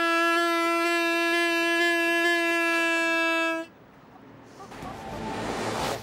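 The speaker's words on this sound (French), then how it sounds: "Une corne de brume, un peu ancienne." A loud, steady horn blast with a rich buzzing tone from an antique portable foghorn dating from 1890 sounds for several seconds, then stops abruptly, leaving quiet room noise and some rustling.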